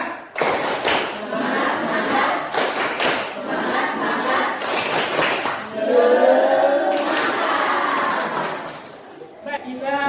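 A school class does a rhythmic spirit clap together, fast bursts of patterned clapping with chanting voices over it, close and loud, filling the room and tailing off at the end.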